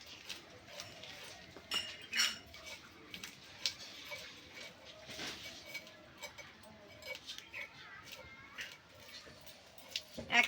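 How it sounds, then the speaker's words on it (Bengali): Small hilsa fish being scaled by hand, with irregular rasping scrapes and sharp little clicks close by, fairly quiet and uneven in rhythm. "মাছের আঁশগুলো বেশ ভালো করে ছাড়িয়ে নিতে হবে।"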